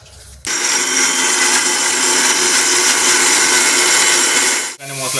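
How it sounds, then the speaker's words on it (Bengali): A mixer grinder blending ginger, garlic and spices whirs at a loud, steady high pitch for about four seconds, starting and stopping abruptly. "এখানে মিক্সারে আদা রসুন সমস্ত কিছু দিয়ে দেওয়া হয়েছে। এবার এটাকে আমরা মিক্স করে নেব"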